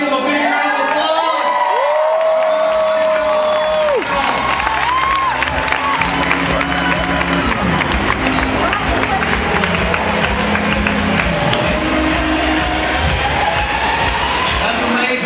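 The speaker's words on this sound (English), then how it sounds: "One more time, give them a big round of applause." Crowd applause and cheering at a company regional event, a sustained roar of clapping and whoops that swells and holds for about fifteen seconds, with voices and tonal sounds mixed in at the start.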